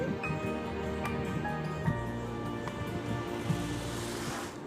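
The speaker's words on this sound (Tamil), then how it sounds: "இப்போ நான் 3 முறுக்கு விடுறேன்." Murukku dough fries in hot oil, with a continuous soft bubbling and sizzling that stays fairly quiet and even throughout, plus a few faint clinks.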